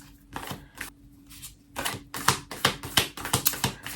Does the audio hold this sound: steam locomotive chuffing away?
no